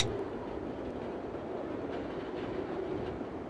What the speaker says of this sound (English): This is a Brown Line train to downtown.